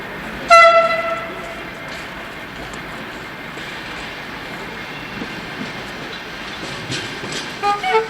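Gare de Lyon in Paris in 1977 fills with station ambience: a loud train horn blast opens over a constant rumbling hall wash, with distant rolling rail noise and scattered clunks building toward the end.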